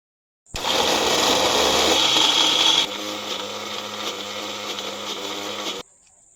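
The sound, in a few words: mixer grinder grinding ginger, chili and garlic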